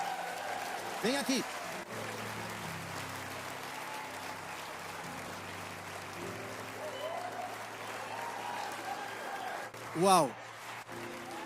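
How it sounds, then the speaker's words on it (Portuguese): A congregation at a church service applauds steadily at moderate volume under amplified music. Someone speaks briefly over the clapping near the start and again near the end. "Vamos aplaudir ela agora, vamos lá."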